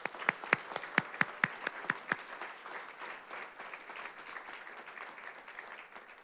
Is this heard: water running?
no